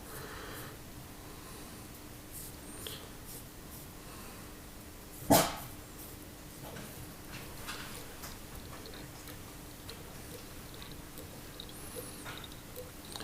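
A single sharp dog bark cuts through a quiet room with a faint steady hum, then the background settles back to low ambient noise.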